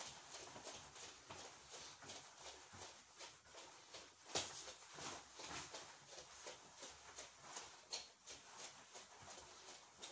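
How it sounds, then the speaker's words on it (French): Horse hooves at a steady trot on arena footing during a riding lesson, a continuous rhythmic patter of muffled beats at moderate distance, with no talk. "Allez, on reprend le petit trot."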